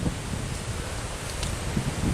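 Strong wind buffets across an exposed rocky ledge on a hiking trail, a steady roaring rush with microphone rumble throughout, loud and close with no voices.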